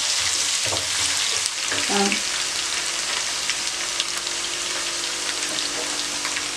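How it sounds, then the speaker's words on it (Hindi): Ginger fries in hot oil with a steady crackling sizzle, with a brief clink of a utensil early on before the sizzling continues alone. "अब अदरक डाल दें। हल्की सी अदरक फ्राई कर ली।"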